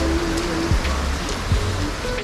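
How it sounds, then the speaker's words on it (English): Steady rain falls in the Mexican countryside, a dense, even hiss of drops on surfaces that runs unbroken throughout, with two soft low thumps partway through. "I'm just gonna be there until rain stops."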